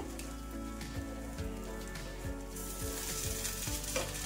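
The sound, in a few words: green moong sprout dosa frying and sizzling on the pan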